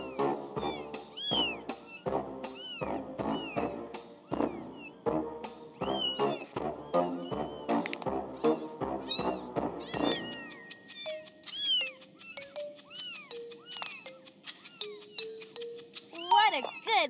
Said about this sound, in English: What a good mama cat!